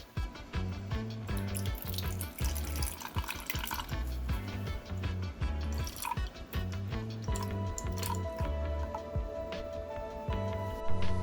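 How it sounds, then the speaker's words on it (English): Hot water poured into a container of cold dye water for silk dyeing, a steady close splashing and gurgling stream with faint drips, running continuously without speech. "Adding hot water to this cold water that's been sitting should be just fine."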